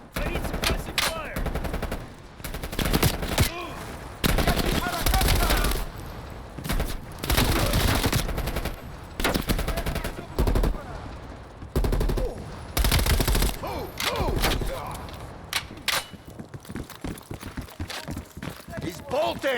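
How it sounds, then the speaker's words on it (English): Suppressive gunfire rattles through a Call of Duty: Black Ops Cold War battle, with loud, irregular bursts of automatic weapons and shots coming in clusters amid footsteps and the sounds of combat. "I need suppressive fire!"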